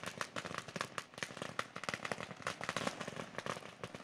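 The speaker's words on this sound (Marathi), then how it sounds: "या ठिकाणी जर पाहिलं तर फटाक्यांची आतषबाजी आपल्याला सांगते" Firecrackers at a cricket match pop in a dense, fast crackling barrage that goes on without pause, somewhat distant and quiet, with no talk.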